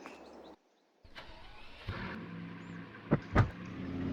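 A BMW car starts up before driving off: a short gap of silence, then a rising engine rumble, with a couple of sharp mechanical clunks near the end, heard close and fairly quiet.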